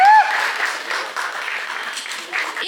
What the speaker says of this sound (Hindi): please तालियां रुकनी नहीं चाहिए